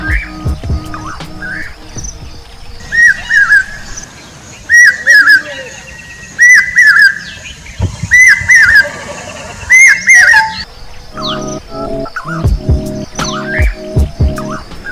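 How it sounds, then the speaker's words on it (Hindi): A pied crested cuckoo, also called bambiha or papiha, repeats loud, clear whistled calls in phrased bursts, close and prominent over a quiet background with other faint bird chirps. "असल में बंबीहा एक पंछी है जिसनों होर भी कई नावों नाल बुलाया जाता है। इसनों पपीहा भी कहा जाता है"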